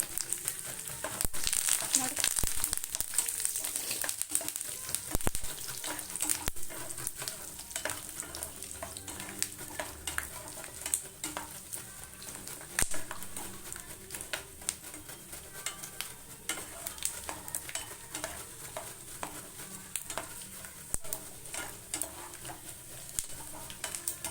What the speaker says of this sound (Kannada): ಇಲ್ಲಿ ನಾನು ಕಡಲೆ ಬೀಜ ಸೇರಿಸ್ತಾ ಇದ್ದೀನಿ